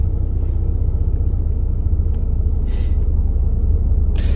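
Steady low engine rumble fills the cabin of a moving car, loud and continuous, with a few brief hissing bursts over it and no talk.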